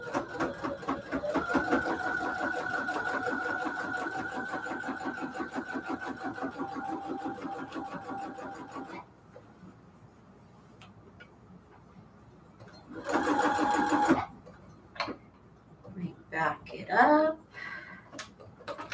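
Sewing machine backstitching on a cathedral window quilt pillow case, a long rapid rattling run followed by a pause and a shorter burst, with a person speaking over the later part.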